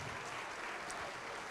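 A church congregation applauds in a steady, dense wash of clapping that continues without a break, close and full throughout, with no distinct voices.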